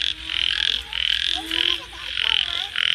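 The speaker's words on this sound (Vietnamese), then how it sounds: "Ếch kìa. Ừ. Ếch đồng ấy." Field frogs croak loudly in a rice paddy, close and in rapid repeated bursts with short pauses between them.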